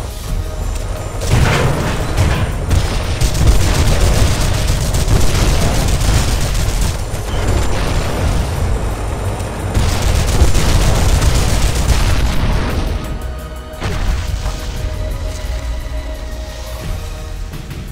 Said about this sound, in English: grenade launcher. Now.